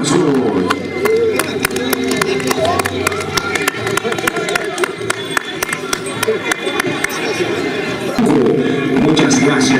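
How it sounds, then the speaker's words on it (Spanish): An outdoor crowd at a traditional costume parade in Chumbivilcas applauds and cheers loudly and steadily, with clapping mixed into dense crowd babble and voices throughout. "¡Aplauso!"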